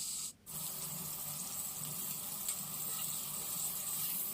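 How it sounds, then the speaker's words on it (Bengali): Thin chicken pieces topped with garam masala frying in a pan on a stovetop, a steady soft sizzle running throughout with a brief dip near the start, fairly quiet and close. "ভেজে নেব মাংস দুটি।"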